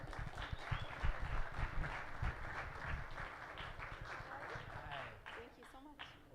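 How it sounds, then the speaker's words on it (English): A livestream panel audience at a Sikh storytelling event with Brooklyn Law School applauds, a thick, steady wash of clapping that fades near the end as a voice comes through. "Round of applause."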